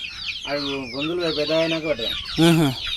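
Young fighting roosters, about three months old but already large, cluck and call repeatedly at close range in a series of throaty, rising bursts.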